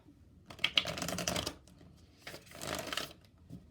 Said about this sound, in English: I'm going to pull 2 cards to start us off